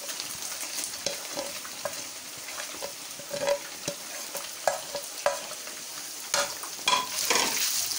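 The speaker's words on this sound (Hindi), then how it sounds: "चिकन डालते हैं ताकि चिकन का कच्चापन थोड़ा सा ख़त्म हो।" Chicken pieces frying in a little oil while being stirred, a continuous sizzle broken by repeated clacks and scrapes of a spoon against the pan.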